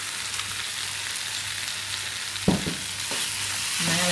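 Mutton liver fry with curry leaves sizzles in a pan under a steady hiss, while a spoon scrapes and clinks a few times as it is stirred, close and clear, with no one speaking.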